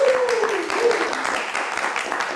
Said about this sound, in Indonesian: Kita kasih tepuk tangan untuk Aumania.